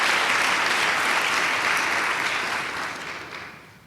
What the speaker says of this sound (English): Would you give a round of applause to our Board of Trustees?